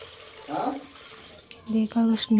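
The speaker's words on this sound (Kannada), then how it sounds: "ಅದಕ್ಕೆ ಎಷ್ಟು ನೀರು ಬೇಕೋ ಅಷ್ಟು ನೀರು ಹಾಕ್ಕೋಬೇಕು." Water poured into a pressure cooker holding horse gram, a soft close splash and trickle, with a person talking alongside.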